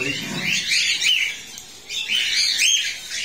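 Young home-bred cockatiel chicks about three months old in a breeding farm, chirping and squawking in two busy bursts of shrill, scratchy calls, close and lively, with faint background murmur.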